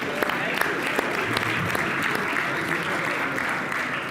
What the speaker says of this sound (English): Well, a special round of applause there.